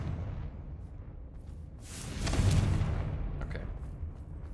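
A Confringo fire spell blast in Hogwarts Legacy lands as a single whooshing, fiery burst about two seconds in, swelling into a broad rumbling boom before fading into steady low background rumble, with no speech.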